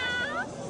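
A person imitates a cat's meow, a single short drawn-out vocal mew with a rising then falling pitch, close and fairly loud, with no other sound around it.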